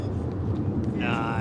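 A jet aircraft climbs steeply away from RAF Lakenheath with a loud, continuous roar, and a high engine whine rises toward the end under a voice speaking.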